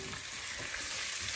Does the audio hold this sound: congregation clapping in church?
no